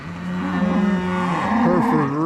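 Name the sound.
cows being let out of a pen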